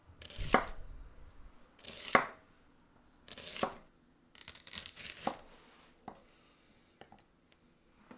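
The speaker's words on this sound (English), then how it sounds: "Peel, then thinly slice up your shallot." A knife thinly slicing a peeled shallot on a board for Vietnamese Bánh Chưng pork filling: about five crisp, close chopping strokes with pauses between them, then fainter small taps toward the end.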